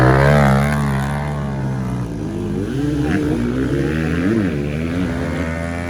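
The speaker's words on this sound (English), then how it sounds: "I believe there's a pit bike trying it here." A pit bike engine strains loudly and close while climbing a steep motocross hill, its pitch wavering up and down as the throttle is worked, with no talk over it.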